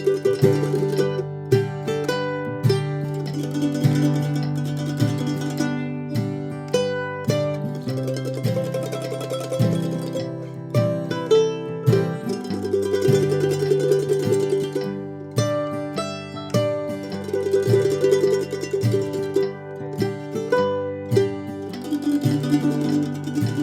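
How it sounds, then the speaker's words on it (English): Mandolin plays an advanced double stop tremolo passage, rapid picking on paired strings sustaining two-note chords that shift through a melodic line, close, full and unaccompanied for over twenty seconds. "one of the most advanced techniques on the mandolin, and that is double stop tremolos."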